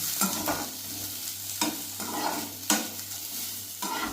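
Onion being fried in oil for a chicken dish, with repeated bursts of stirring and scraping over a steady background sizzle, close by and moderately loud, no talk.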